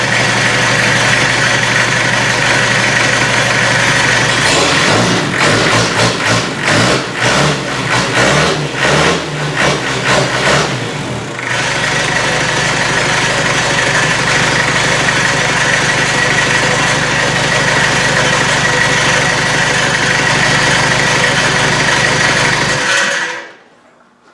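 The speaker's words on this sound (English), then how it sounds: "That rattling's the flange on the exhaust bolt" A naturally aspirated 2.5 diesel engine starts and idles steadily with a metallic rattle from the exhaust flange bolt, a burst of uneven clatter early on, running loud and close until it cuts off.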